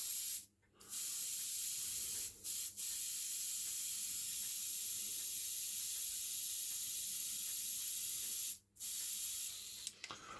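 An airbrush hisses air steadily through a faulty quick coupling, a loud continuous spray broken by a few brief cutoffs, close and alone.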